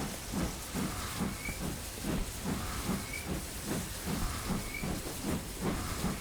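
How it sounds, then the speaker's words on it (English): A King Class steam locomotive on the Riviera Line under a bridge, a loud steady hiss of steam with rhythmic chuffing beats and a few faint, short whistle-like tones, no talking. "Train under a bridge."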